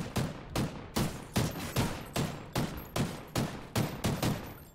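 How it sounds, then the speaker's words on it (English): Rapid gunfire from a shooter video game, an AR-type rifle firing about eleven evenly spaced loud bursts in quick succession, close and punchy with no talk over it. "Bro, he's shooting me."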